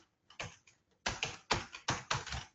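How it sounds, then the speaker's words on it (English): Keys clatter on a computer keyboard in short bursts, a few isolated taps followed by a quicker run of close, crisp keystrokes in a quiet room. "And I can start typing"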